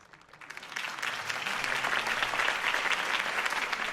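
Crowd applause swells after a political campaign speech in Batman: The Telltale Series, a dense roar of many hands clapping that builds from a soft start and holds steady and full, with no talk over it.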